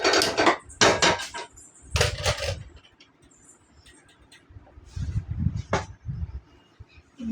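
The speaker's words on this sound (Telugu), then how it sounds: "దంచుదాం అన్నమాట, రోట్లో దంచుదాం." Ginger is pounded in a stone mortar with a series of sharp, close knocking thuds in uneven bursts, a pause, then more strikes.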